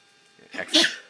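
A single short human sneeze, close and fairly loud, with a brief intake followed by a sharp burst, heard alone during a lecture-style talk.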